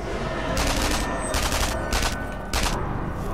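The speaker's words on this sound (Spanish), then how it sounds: "mis disparos sí que se escuchan" Player's rifle gunshots in the video game Sniper Elite 3 fire in rapid bursts, four or five loud clustered volleys over a steady noisy background, with no talk.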